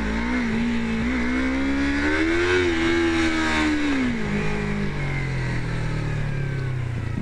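A Yamaha MT-03 motorcycle engine revs up for a wheelie attempt, its pitch climbing and holding before dropping off as the bike eases back, close and loud with no talking.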